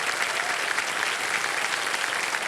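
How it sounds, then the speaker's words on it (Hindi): A studio audience on a television quiz show breaks into dense, steady applause, loud and continuous without pause. "तालियां बज जाए इनके लिए।"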